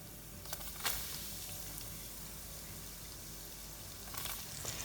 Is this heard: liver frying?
yes